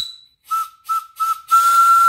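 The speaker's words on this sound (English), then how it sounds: "And the whistle, turn down your volume if you want to." An antique steam engine boiler whistle with a brass gauge nearby gives three short shrill toots followed by a longer sustained blast, loud and close with a steamy hiss.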